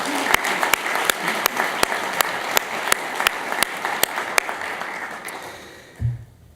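Gala audience at the 2017 Ohio University faculty newsmakers event gives a round of applause: many sharp, close hand claps over a dense wash that swells, then fades out near the end.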